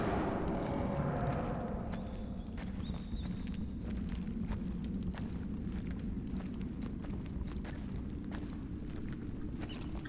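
A campfire in Far Cry Primal burns with steady soft crackling and a low rumbling roar, faint and continuous, with scattered small pops throughout.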